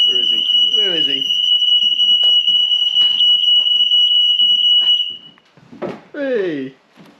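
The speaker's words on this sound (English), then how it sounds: "When the smoke alarm goes off in the kitchen, it goes off throughout the house." A shrill, steady interlinked household smoke alarm, set off in the kitchen and sounding throughout the house, beeps continuously for about five seconds. Voices talk over it and keep talking after it stops.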